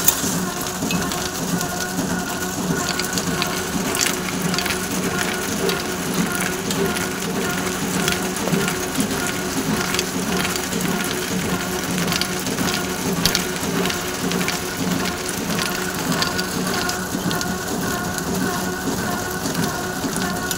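A gur batasa sugar candy machine in Barasat, Kolkata runs with a loud, dense, continuous mechanical clatter and rattle, a rain-like wash of grinding noise holding steady throughout with no pauses.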